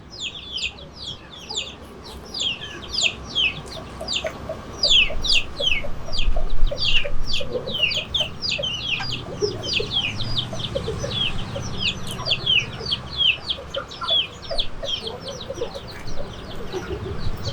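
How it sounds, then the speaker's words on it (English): Broiler chickens clucking and chirping busily as a flock feeds, a dense continuous chorus of short high calls, close and fairly loud, with a low rumble underneath. "They're eating a lot, broilers."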